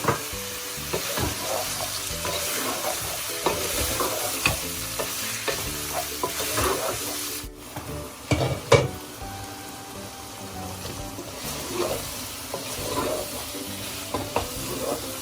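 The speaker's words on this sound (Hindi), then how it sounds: "गोश्त हमने अच्छी तरह भूनना है" Meat with yogurt and whole garlic sizzles and fries in a pan for haleem while a utensil stirs and scrapes through it repeatedly, close and steady, with no talking.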